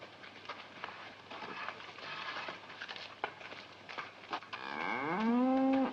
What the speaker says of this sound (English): we look at this big cow